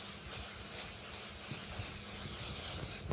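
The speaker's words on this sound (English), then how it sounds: "I'm going to do one more spray of smoke." A smoke can sprays during an on-location portrait shoot, giving a steady airy hiss that carries through the whole stretch at moderate loudness, with no talking over it.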